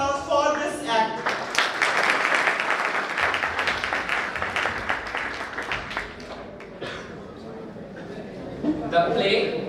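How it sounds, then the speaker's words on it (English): Audience applause after a student play at a college technical festival, a dense wash of clapping from a crowd, loud and sustained for several seconds before thinning out, with a voice speaking faintly underneath. "give a huge round of applause for this act"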